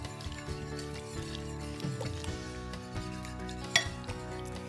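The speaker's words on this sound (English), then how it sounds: "I'm just gonna whisk this together to get this combined." Whisk clattering in a bowl as beef bouillon is mixed into a mixture, soft continuous metallic scraping and ticking with a few sharper clinks, faint and close.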